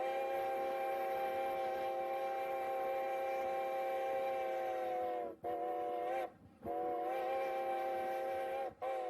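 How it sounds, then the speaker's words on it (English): A steam locomotive whistle on the Strasburg Rail Road sounds a crossing signal, two long blasts, a short toot and a long, broken by brief gaps, loud and steady over train rumble. "You'll now hear a crossing signal, 2 longs, a short, and a long as we approach this crossing."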